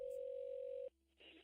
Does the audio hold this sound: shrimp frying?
no